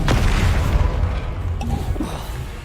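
A spell blast in Hogwarts Legacy lands as a loud, deep boom that rumbles and fades, followed by a few faint lighter pops.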